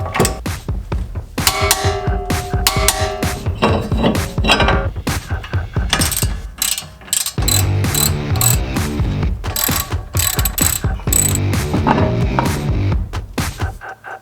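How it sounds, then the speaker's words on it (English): A wrench is worked on a wheel spindle nut, giving loud, rapid ratcheting clicks in repeated runs, with clanks of metal tools close by and no talk. "You'll need to use a wrench to tighten this all the way down and then of course torque it to spec."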